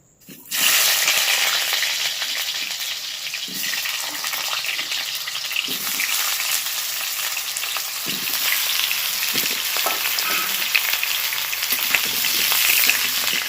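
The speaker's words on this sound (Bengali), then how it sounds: "তেলটা পুরোপুরি গরম হয়ে গেছে, এবার আলুগুলোকে দিয়ে দেবো" New potatoes drop into fully heated oil and erupt into a loud, continuous sizzle that holds steady, with a few stirring clinks under it.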